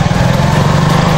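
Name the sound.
motorbike engine running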